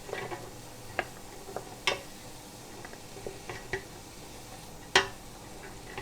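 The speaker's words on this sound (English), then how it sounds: "Mix it in, and I want to coat the veg with the onions." Carrot and parsnip chunks are stirred with onions and ginger in a pot, giving sparse soft scrapes and sharp clicks at irregular intervals over a faint sizzle, with no talking.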